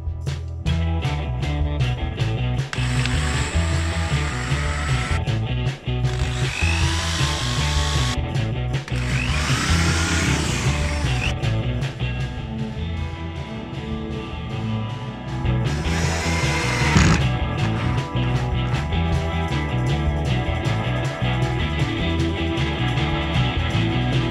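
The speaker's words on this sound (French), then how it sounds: "je vais pouvoir pré-percer mes trous, puis mettre mes vis" A power drill pre-drills holes and drives screws into wood battens for a homemade racing simulator seat frame, with repeated whirring bursts of varying length, ratcheting clicks and handling knocks, close and fairly loud.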